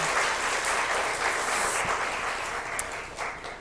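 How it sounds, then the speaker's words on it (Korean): Congregation in a church clapping for the church choir: dense, steady applause filling the whole room at an even level, easing off slightly toward the end, with no talk over it. "다시 한번 격려의 박수"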